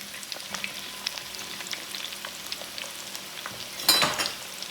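Steady crackling sizzle of fries deep frying in hot oil in a fry basket, with a louder burst of bubbling near the end.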